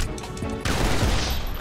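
Gunfire in GTA 5 during a street confrontation: a sudden loud burst erupts partway through and keeps roaring densely to the end, with no talk over it.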